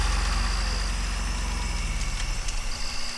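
A Jeep engine idles and rumbles at low speed as it creeps a short distance into a parking place, a steady close throb with a faint rhythmic pulse and no talking.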